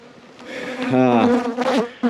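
Bees buzz close to the microphone among blooming crop plants, a loud brief droning hum with pitch shifting as one passes by.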